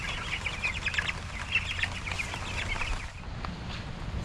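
Meat chickens, recently rained on, cluck and chatter softly in a low, continuous jumble of short calls with faint background noise.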